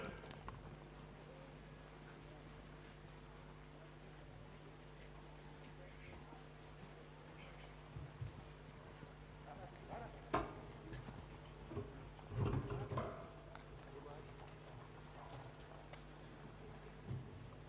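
A horse moves across a competition course at a stockmanship event, giving faint intermittent hoof clops and thuds under a quiet, steady background hum, with a few louder knocks near the middle.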